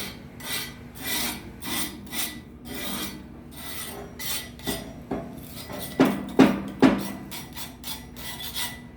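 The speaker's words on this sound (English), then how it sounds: "I'll carefully scrape all this right down inside there" Repeated rasping scrapes of a putty knife clearing creosote buildup from inside the oven box of a Kitchen Queen 380 wood cookstove, in steady strokes with a few sharper metallic scrapes near the end.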